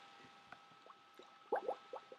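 A cartoonish bubbles sound effect plays in the Scratch coding program: a quick string of small watery bloops and pops, faint and close, with no talking.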